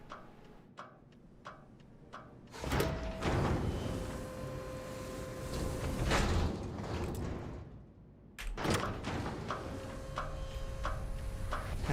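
In Starfield, a sci-fi door slides open with a mechanical whoosh and a steady hum, preceded by soft clicking ticks, then a second door cycle follows with another rush of noise and a tonal whine.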